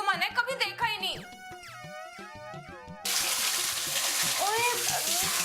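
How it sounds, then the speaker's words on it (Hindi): Water rushes in steadily as it fills up, a loud broadband pour that begins abruptly partway through and continues, following a stretch of music and voices. "देख तो कैसे लबालब पानी आ रहा है।"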